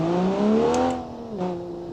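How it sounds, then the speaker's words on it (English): A sports car engine in the BeamNG video game, a manual 1980s American car with a turbo, revs loudly with a strong rising and falling harmonic whine, close and steady, a brief shift change midway, no one talking. "Oh my god, this car is louder than I am."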